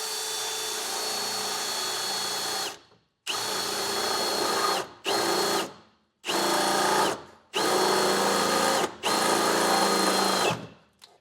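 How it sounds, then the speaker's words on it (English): A drill with a half-inch bit whines in five or six loud bursts separated by brief pauses as it bores into metal, each run ending with a winding-down tail. "I got a 1/2" drill bit, and I'm going to go up"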